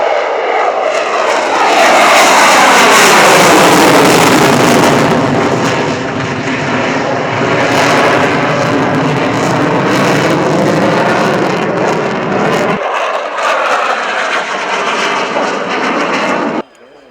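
An aircraft flying a display at the RIAT airshow at Fairford roars loudly overhead, its engine tone sweeping and shifting in pitch as it passes, with the low end dropping away late and a commentator's voice partly beneath it.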